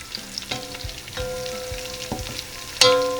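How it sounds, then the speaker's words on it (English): Whole spices such as cardamom, cloves and cinnamon with green chili sizzle in hot oil for a chicken biryani, a steady close frying hiss with brief stirring clinks and a louder spit near the end. "now that we're sauteing them in hot oil"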